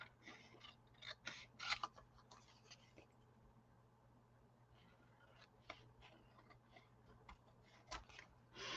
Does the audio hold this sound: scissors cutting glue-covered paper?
yes